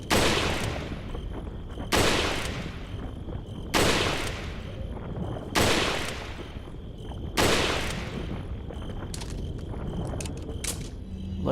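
Rifle gunfire in the video game Resident Evil 4: five loud, sharp single shots spaced about two seconds apart, each ringing out and fading before the next.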